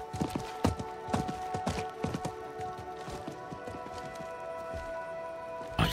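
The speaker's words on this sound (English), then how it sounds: "I think that was the merchant's horse" A horse in the video game Diablo 4 gallops off with quick, rhythmic hoofbeats and a whinny, moving away while a steady musical tone hums underneath.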